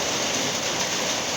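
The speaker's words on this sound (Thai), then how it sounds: "ตอนนี้ฝนตกหนักอยู่" Heavy rain pouring down steadily near a pig pen on a rural farm, a dense, continuous hiss with no break and no voices.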